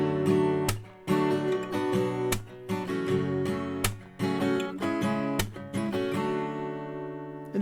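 Acoustic guitar strumming a looping chord pattern, steady and close, with sharp clap-like accents landing every couple of seconds over the strums.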